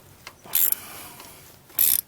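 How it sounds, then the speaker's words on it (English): A torque wrench ratchets while tightening the bolts on an s16G turbo fitted to a Galant VR4. Two short bursts of clicking sit close to the microphone, separated by about a second of quiet, with no talk. "I'm just gonna torque it 20, then 40, and then call it a day."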